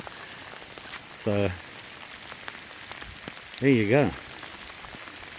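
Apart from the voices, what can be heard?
heavy rain during hammock camping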